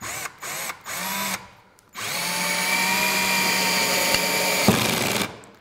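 A Hitachi 18V cordless combi drill set to low speed on torque setting 12 drives a screw into wood: a couple of short trigger bursts, then a steady close whine for several seconds before it stops.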